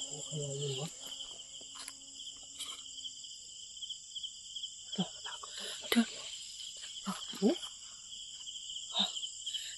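Crickets and other insects at night in a cemetery in Bukidnon, a steady high shrill drone with faint scattered chirps and soft clicks, and a brief voice at the start.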